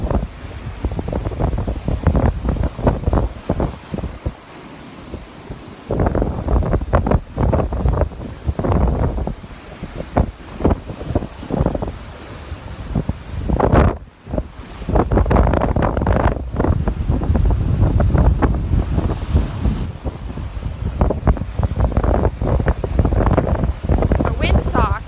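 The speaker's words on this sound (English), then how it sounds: "the wind is just so bad this direction" Strong wind on a beach at Destin, Florida, buffeting a microphone covered only with a band-aid, with loud continuous low roaring gusts and surf underneath throughout.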